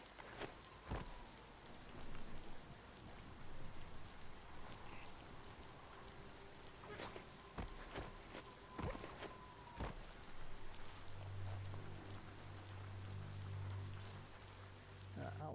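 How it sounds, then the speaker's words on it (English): Steady rain falling in the video game Biomutant, a continuous soft patter with scattered sharper drops, faint and constant throughout, with a low hum rising near the end. "When it rains, it gets wet."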